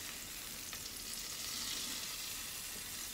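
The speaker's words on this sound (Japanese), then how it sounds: "それをフライパンにバターを入れて炒めていきます。" Chopped mushrooms sizzle in butter in a frying pan for a chicken and mushroom terrine, a steady, close crackle of frying with faint stirring and no voices.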